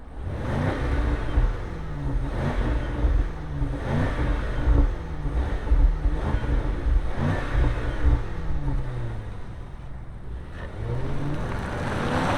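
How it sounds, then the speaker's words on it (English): A 2025 Range Rover Sport Autobiography with a twin-turbo engine revs hard and accelerates away, a loud, steady engine roar that surges and pulses for several seconds before easing slightly and building again. "Let's fire this up and see this Land Rover Range Rover Sport take off."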